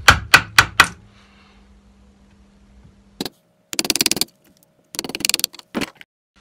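A steel chisel struck by a mallet pares down timber for a tee halving joint: a quick burst of four sharp knocks, then a pause and several clustered rapping taps, close and crisp.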